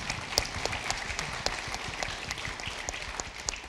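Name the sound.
audience applause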